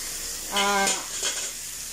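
Milkfish intestines and liver sizzle in a frying pan, with a steady crackle of frying and a brief scrape of stirring near the middle.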